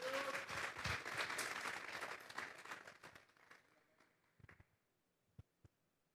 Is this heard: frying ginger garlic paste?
no